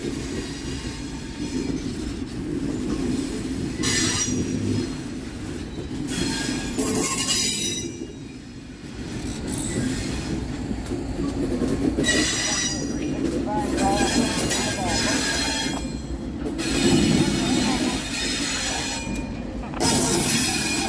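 A train rolls past on the Cuyahoga Valley railway near Peninsula Station, a loud, continuous rumble of wheels and cars close by, with metallic squeals and clinks over it and faint voices now and then.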